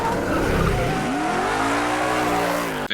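Powerful muscle car in a John Wick movie scene, engine revving loudly with rising pitch and a tire screech, ending in a brief cut.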